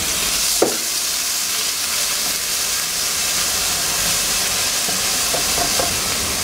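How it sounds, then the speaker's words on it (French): Onion, ginger and garlic sautéing in a pan for a Mauritian curry, giving a steady bright sizzle and hiss throughout, close and fairly loud, with one brief clack near the start. "Notre mélange oignon, gingembre, ail. Le laisser revenir"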